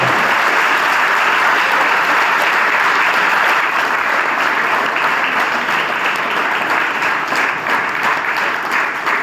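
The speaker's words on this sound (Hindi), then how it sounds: "मैं चाहूंगा कि इनके लिए जोरदार तालियां आपको करना होगी।" Loud, sustained applause from a school audience, steady and dense for the whole stretch with no break.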